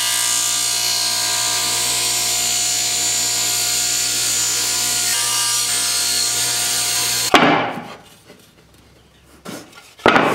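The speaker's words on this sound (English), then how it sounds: "So I'm going to try cutting it with this miter gauge." Wood being sawn with the stock guided by a miter gauge, a steady, loud, continuous cutting drone for several seconds that stops abruptly, followed by a few quieter knocks and scrapes.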